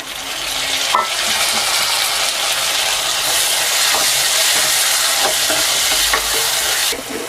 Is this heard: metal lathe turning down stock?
no